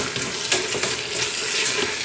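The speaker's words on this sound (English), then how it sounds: "Let's add the shrimp. Mix it all in, get it coated." Shrimp and vegetables sizzling in a pan while being stirred, a close continuous frying hiss with small scraping surges from the stirring.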